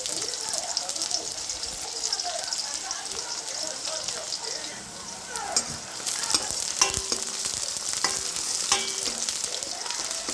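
Onions and green chilies fry in hot oil with curry leaves, a steady close sizzle broken by stirring scrapes and clinks of a spoon against the pan.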